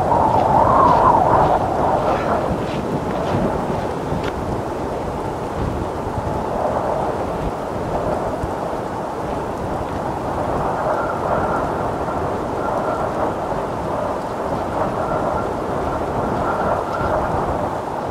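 Heavy rain pours steadily through a thunderstorm at an off-grid house on Lundy Island, England, with a loud rumble of thunder near the start and constant rainfall after.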